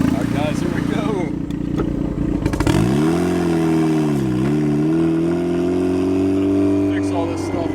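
A loud turbocharged Mazda Miata engine drives around town, with a steady rumbling drone that rises and dips in pitch as it accelerates and shifts, close and constant throughout, and a voice partly under it.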